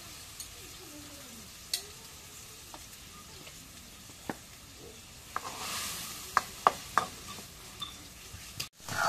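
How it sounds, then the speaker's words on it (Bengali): Garlic, cumin and onion pastes sizzle in a pan, a low steady fry broken by a few sharp clicks and light stirring scrapes, close and alone without talk. "রসুন বাটা দিলাম। এই যে জিরে বাটা দিলাম পরিমাণ মতো, একটু পেঁয়াজ বাটা দিলাম"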